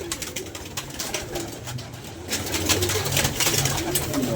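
Pigeons coo steadily in a room or loft, soft rolling calls repeating close by and growing louder and denser toward the end, with faint rustling beneath.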